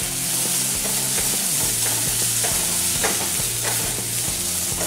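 Onions and green chili paste fry in a pan, a steady hiss of sizzling with occasional stirring scrapes, continuous and fairly loud, partly under tonal background music.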